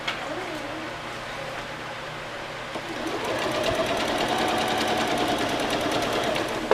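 A sewing machine hems a child's circle skirt with a soft, steady whir that picks up and becomes a little louder partway through. It runs alone with no speech.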